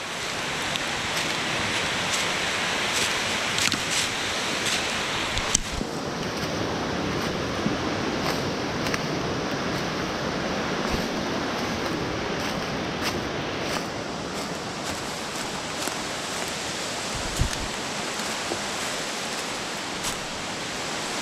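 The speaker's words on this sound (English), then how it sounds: "so there's the falls" A creek waterfall roars in a constant, dense broadband rush, close and loud for the full stretch with only slight shifts in texture and no voices.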